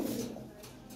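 Lahori pigeon cooing in a loft among show-quality birds, a low, steady, resonant purr that carries on continuously through the moment, fairly close.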